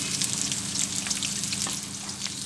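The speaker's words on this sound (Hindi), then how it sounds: "सबसे पहले हम प्याज को फ्राई करेंगे।" Four finely chopped onions fry in a pan with a steady, close, dense sizzle and crackle that holds at an even level throughout.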